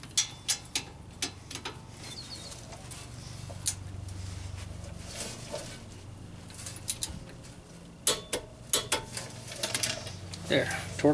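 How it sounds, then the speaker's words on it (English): Torque wrench tightening the rear brake caliper bolts on a Lincoln MKX/Ford Edge to spec, a series of sharp ratcheting clicks and metallic ticks, some clustered in quick bursts near the end, with faint workshop noise between. "we'll make sure it's torqued down. 66 foot-pounds for both of these caliper bolts"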